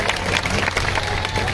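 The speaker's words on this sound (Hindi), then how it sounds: "जोरदार ताली बजा स्वागत करो।" A crowd claps and cheers to welcome guests at a Congress party meeting in a Chhattisgarh village, dense close applause with voices mixed in throughout.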